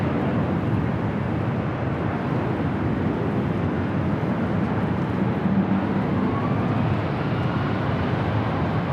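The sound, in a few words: Delta airliner taking off at LAX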